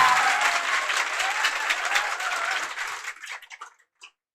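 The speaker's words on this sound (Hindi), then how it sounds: "इनके लिए एक बार जोर से ताली होना चाहिए" An audience claps loudly for newly appointed police sub-inspectors, dense applause holding steady for about three seconds, then thinning into a few scattered claps before stopping.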